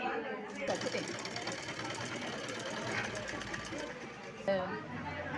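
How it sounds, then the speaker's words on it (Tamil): A sewing machine stitches a Velcro strip onto a jute lunch bag, giving a steady, close mechanical whir and rapid needle chatter that runs almost without a break, with a brief pause near the start and a knock near the end. "பட்டியை வெல்க்ரோ வச்சதுக்கப்புறம் கீழே ஒரு தையல் போட்டுரும்"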